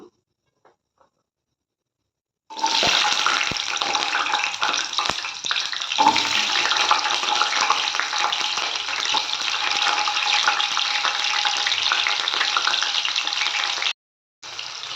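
Shallots hit hot oil with fenugreek for a dried rock-fish curry. After a quiet start they set off a sudden loud, steady sizzle that runs on evenly until a brief break near the end.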